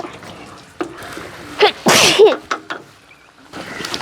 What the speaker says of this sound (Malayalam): എന്തായാലും തുമ്മി പോയ സ്ഥിതിക്ക്